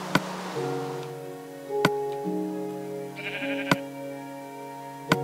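Sheep in the Minecraft video game bleat in a series of wavering, clear calls, interrupted by a few sharp clicks, with no talking.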